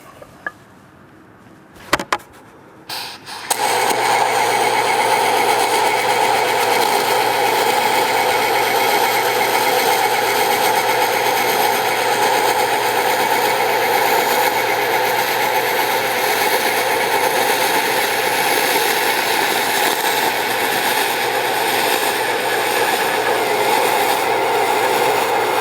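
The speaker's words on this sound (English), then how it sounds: "We've made a single pass weld in this fillet in this horizontal joint" MIG welding of a horizontal aluminum fillet joint with a spool gun: after a few brief clicks and knocks, a steady buzzing, crackling arc runs loud and unbroken for over twenty seconds.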